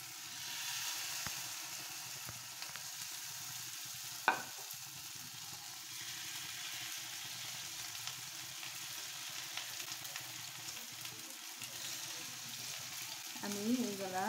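Cauliflower pakoras fry in hot oil with a steady, soft sizzle and bubbling, a brief clink near the middle and light stirring noises, fairly quiet and close.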